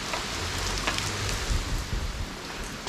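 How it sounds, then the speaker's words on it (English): Steady rain falls outside during a wet day while a classic Mini is being worked on, a dense, even hiss with soft low rumbles, fairly close and continuous with no voices. "I don't like going out in the rain. Still raining."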